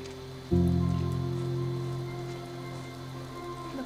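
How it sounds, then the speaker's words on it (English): Steady rain falling in The Wild at Heart game, a continuous soft patter over a low hum that begins abruptly and slowly fades a little, with no talk. "Well, it is raining."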